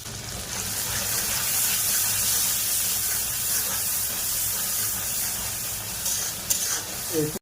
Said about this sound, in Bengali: অল্প করে জল দিয়ে মশলাকে কষে নেব